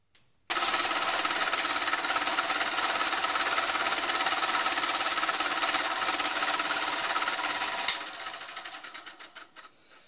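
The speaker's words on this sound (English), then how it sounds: "I shan't bore you with all that machining because it's pretty straightforward from now on" Continuous metal machining on a milling machine while building a beginner's steam locomotive chassis frame, a steady loud grinding whine that starts abruptly, holds for several seconds, then tapers into irregular rattling.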